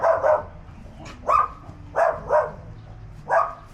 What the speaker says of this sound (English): Sounds like they've got some dogs.